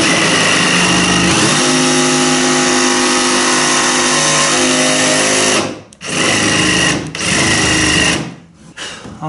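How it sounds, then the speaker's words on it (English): A power jigsaw cuts an opening through wood while building a daggerboard box for an Acorn dinghy, a loud, steady buzzing drone that runs for several seconds and then cuts out and restarts a couple of times. "Maybe take my jigsaw and cut a little bit of an opening big enough for a router bit to fit"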